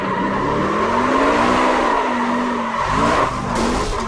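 In a racing video game, a race car brakes hard with sustained tire squeal over a steady engine drone, loud and close, with one brief dip before the squeal picks up again.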